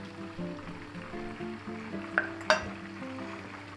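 Eggplants frying in a pan for Turkish chickpea musakka, a soft steady sizzle with faint bubbling and a couple of sharp clinks or pops near the end, quiet and close.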